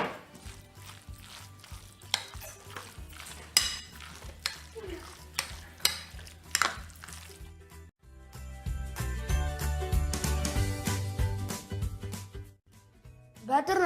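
Chicken sandwich batter with mayonnaise is stirred in a bowl, giving steady scraping and clinking of a spoon against the sides that grows busier in the second half, with brief speech at moments.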